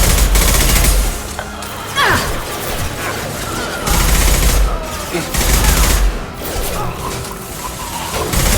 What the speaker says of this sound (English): Firing concussion shot!